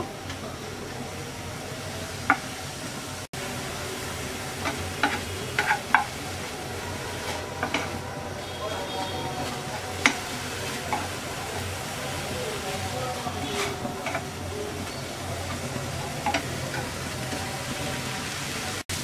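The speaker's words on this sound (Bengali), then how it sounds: "ধনে পাতা ভেজে নেওয়া হয়ে গেছে" Coriander leaves fry in a pan on high heat as their released water cooks off, making a steady hissing sizzle broken by occasional light spatula taps and scrapes.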